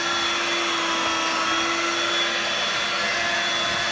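Steady, loud motor whine from a running Dirt Devil Vibe lightweight corded stick vacuum, unbroken and close, with no voices.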